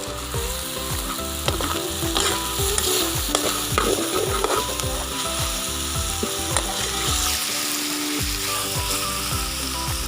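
Herb chicken stirred in a hot pan just after two tablespoons of sugar go in, giving a steady close sizzle with repeated scraping and clacking strokes of the utensil throughout, no voices.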